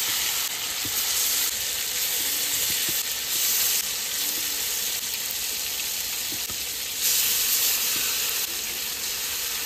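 Chital fish pieces sizzle steadily in hot oil with cumin and bay leaf in a pan, a dense close frying hiss with a few brief clinks, no talking.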